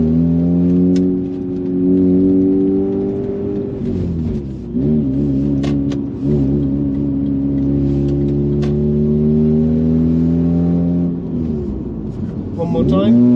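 A Mazda RX-8 SE3P rotary engine revs up toward 7,000 rpm, its rising whine climbing, dropping back and climbing again across several close, loud pulls, with someone talking over it.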